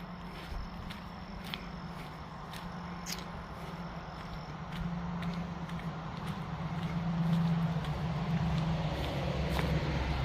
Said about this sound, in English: I know you can hear the cars.